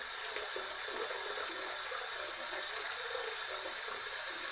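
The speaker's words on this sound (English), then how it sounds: "So we're gonna heat this up under some hot water." Hot water runs steadily from a tap as a straight razor is rinsed and warmed beneath it, a soft, even hiss of flowing water with no talk.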